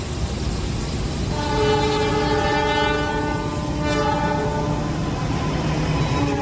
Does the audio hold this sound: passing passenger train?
yes